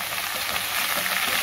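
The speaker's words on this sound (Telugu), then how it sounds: "ఇది ఒక 2 మినిట్స్ వేగితే మనకి సరిపోతుంది" Curry masala with chili powder and garam masala fries in a pan, a dense, steady sizzle with faint stirring scrapes throughout, close and unaccompanied by speech.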